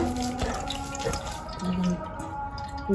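Water trickles and drips steadily from freshly grated ash gourd in a village kitchen, a soft close patter with a few louder splashes and no voices.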